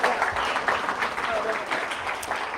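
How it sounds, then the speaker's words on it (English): Audience members at a disability day event in a state legislature clap for two high school educators, a steady ripple of applause with a voice or two mixed in. "Please give them a round of applause for being here to support their students."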